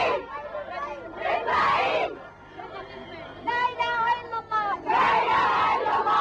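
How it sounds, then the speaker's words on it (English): A crowd of protesters in Damascus chanting slogans in loud, rhythmic unison, waves of massed voices rising and falling in repeated phrases, close and forceful. "Bush, you coward, and down with the United States, chanted the crowds."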